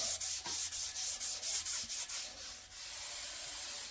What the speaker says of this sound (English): Gotta sand it down.